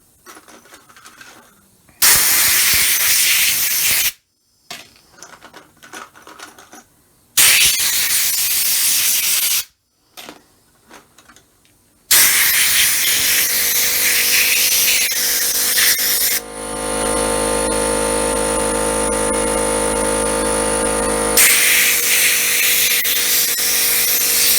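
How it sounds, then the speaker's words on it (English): Compressed air bursts blowing off and drying small cleaned Gottlieb Rat Trap pinball parts fresh from an ultrasonic cleaner: a few short loud hissing blasts with gaps, then a long continuous blast with a steady tonal whine mixed in. "I'm just gonna blow them off and dry them real quick."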